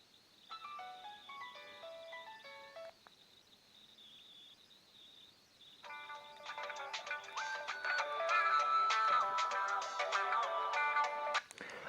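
Polyphonic ringtones from a Nokia 2626 mobile phone play quietly through its small speaker, a short bright melody first, a pause, then a denser, louder tune building to the end.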